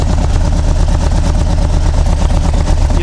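A motorcycle engine idles with a steady, loud, throaty exhaust rumble, close by and continuous, with no talk.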